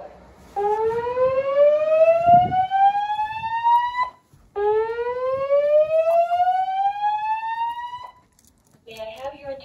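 In a dorm building, a fire alarm siren sweeps upward in two long rising tones, each about four seconds, loud and clear with a brief gap between, followed by the start of another sound at the end.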